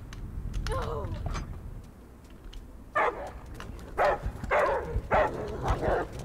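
Dogs barking and scratching behind a door in the video game Die Young, several sharp bursts in quick succession after a quieter stretch, with light background noise between them.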